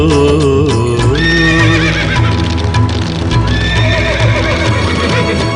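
A white horse neighs and its hooves clip-clop within a loud Kannada devotional song to the goddess Kabbalamma, the whinny and hoofbeats mixed into steady music throughout.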